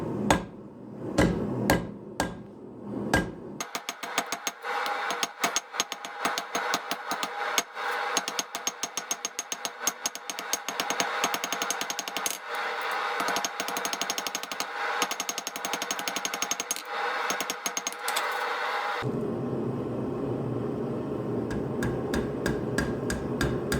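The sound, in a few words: blacksmith hammering a taper on hot steel for tongs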